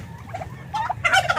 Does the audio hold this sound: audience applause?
no